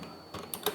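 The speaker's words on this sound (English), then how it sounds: "here I type cherry" A short burst of computer keyboard typing as a word is entered into a Python list: two or three quick, soft key clicks close by in a quiet room.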